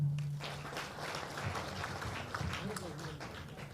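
Crowd applause at a national campaign team announcement, with clapping rising after a low hum at the start and continuing unevenly, mixed with crowd murmur and some voices.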